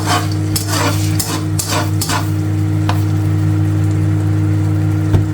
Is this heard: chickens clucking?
no